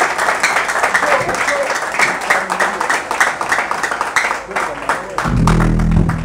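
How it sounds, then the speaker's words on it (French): A studio audience at a televised music show applauds loudly and steadily, dense sustained clapping filling the space, with a voice speaking over it and a low rumble entering near the end. "Est-ce qu'on peut applaudir très fort pour Régis?"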